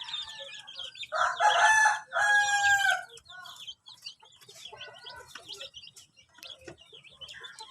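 A mother hen with chicks clucks loudly and repeatedly nearby, followed by softer scattered clucks and faint chirps.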